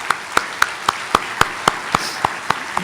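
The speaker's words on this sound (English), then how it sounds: "give a round of applause to all" At a congress opening session, sharp, evenly spaced claps ring out about four times a second, close and distinct, over a faint hiss of room noise.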